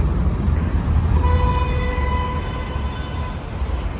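A metro train in Korea rumbles steadily at close range, a low rolling drone with a faint whine and high tonal hum rising partway through, with no voices.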